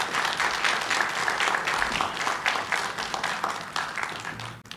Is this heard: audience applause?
yes